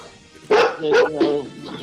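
A dog barks three times in quick succession, loud and close, against a quiet background.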